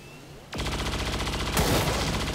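In XCOM 2, a sudden loud burst of rapid gunfire erupts after a quiet moment and continues as a dense, sustained rattle, with a sharper crack partway through.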